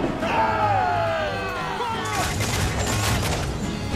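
Cannon and gunfire during a naval battle in Assassin's Creed Black Flag Freedom Cry, with a dense, crackling barrage of shots and crashing impacts mixed with shouting voices, loud and continuous in the second half.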